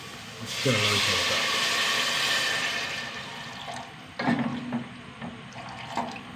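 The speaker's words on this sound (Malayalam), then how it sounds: "വെള്ളം ഒഴിച്ചു കൊടുക്കട്ടോ" Water poured into a cooking pan of chilli powder and sour tomato for chana masala, a steady rushing pour of a few seconds that tapers off, followed by a voice talking alongside quieter clinks and splashes.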